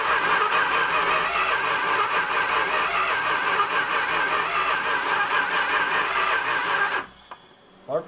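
Engine of an abandoned Dodge Monaco, locked up for over 40 years, running loud and close with a steady, rough idle that cuts off sharply near the end.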